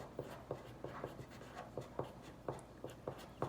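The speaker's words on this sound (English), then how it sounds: "I'm just going to write Pythag." A pen scratches out math notes for a trigonometry homework solution, a run of short, evenly spaced strokes close by and quiet, with no talking.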